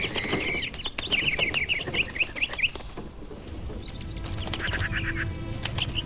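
Birds flap their wings inside a birdcage in the video game Hitman III, with several quick fluttering bursts and chirps in the first few seconds, then quieter rustling and a few more chirps near the end over ambient game noise.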